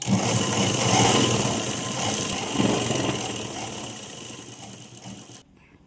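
A sewing machine runs steadily, stitching folded cloth for an umbrella frock with a continuous close whirring buzz that eases slightly before stopping abruptly near the end.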